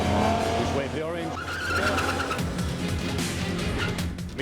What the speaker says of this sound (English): He spins the wheels away from the line.